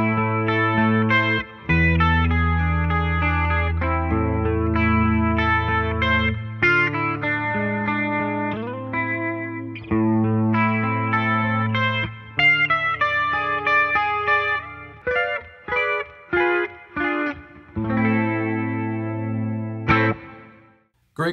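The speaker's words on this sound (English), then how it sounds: "doing a lot of chorusy clean sounds that had sort of a classical eeriness to them" Clean guitar with chorus effect playing a passage of eerie, classical-sounding arpeggios and sustained notes, shimmering and close, with short breaks and choppier phrases toward the end, no talk.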